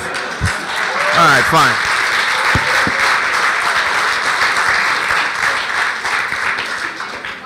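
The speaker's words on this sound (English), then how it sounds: "Applause for him." Audience applause for a startup competitor at a startup competition final, a broad steady clapping that fills the whole stretch, with a brief voice speaking near the start.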